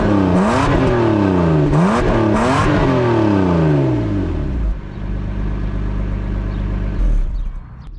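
A 1987 Toyota Supra Mark III with a 5-speed manual and rear-wheel drive is revved hard three times, each rise and fall loud and close. The engine then drops into a steady, rumbling drone.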